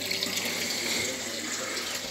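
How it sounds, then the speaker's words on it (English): Water runs from a kitchen tap into a sink in a chilly home, a steady, close rushing hiss that holds evenly throughout with no talk. "let's turn the water on just in case"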